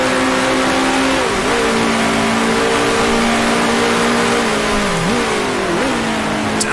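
A 1966 Formula One car engine in the Grand Prix Legends racing game holds a loud, steady high-pitched howl through the gears, with two brief dips and rises in pitch as it shifts, no talk over it.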